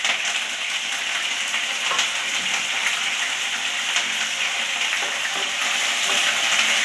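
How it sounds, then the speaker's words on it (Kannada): Curry leaves frying in oil in a pan for Kannada-style pepper chicken dry fry, a steady close, dense sizzle with spitting crackles that runs throughout without speech. "ಸ್ವಲ್ಪ ಹಾಗೆ ಫ್ರೈ ಮಾಡ್ಕೋಬೇಕು. ಫ್ರೈ ಆಗಿದ್ಮೇಲೆ ಕರ್ಬೇವಿನ ಸೊಪ್ಪು ಹಾಕ್ತಾಯಿದ್ದೀನಿ."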